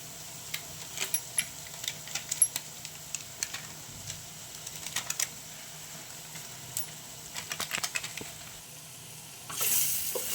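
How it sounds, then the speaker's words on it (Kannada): Tomato and MTR vangibath powder frying in oil: a steady low sizzle with scattered crackles and spatters throughout, plus a louder hiss near the end. "ಇದೆಲ್ಲ ಆಯಿಲಲ್ಲಿ ಚೆನ್ನಾಗಿ ಫ್ರೈ ಆಗಬೇಕು."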